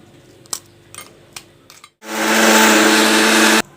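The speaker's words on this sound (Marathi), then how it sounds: "हे बिस्किट आपल्याला इथे तुकडे करून टाकून घ्यायचे आहेत कारण याला अगदी बारीक पावडर आपल्याला याला मिक्सरमध्ये करून घेऊया" A kitchen mixer grinder pulverises Oreo biscuits into fine powder. A few sharp taps come first, then the motor starts with a loud, steady whir that runs for about a second and a half and stops abruptly.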